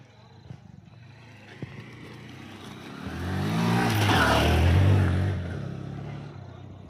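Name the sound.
car driving down the mountain ghat road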